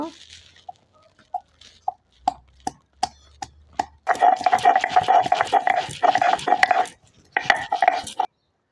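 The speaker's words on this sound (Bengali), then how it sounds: "এখন আদাটা বেটে নেব।" Ginger being ground into a paste on a grinding stone, with a run of separate sharp knocks at first, then a dense, continuous scraping grind that stops briefly and resumes, close by and fairly loud.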